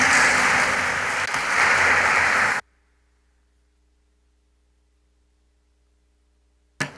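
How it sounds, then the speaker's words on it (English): A concert audience claps in a dense, steady burst of applause that is cut off abruptly after a few seconds, leaving near silence. "Yes, I would applaud that too."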